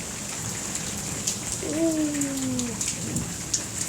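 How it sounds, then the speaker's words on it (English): Steady heavy rain pours down in Spain during a thunderstorm, a dense constant hiss with scattered louder drops. A brief low tonal sound rises midway, and a voice briefly exclaims once. "The rain is pouring down."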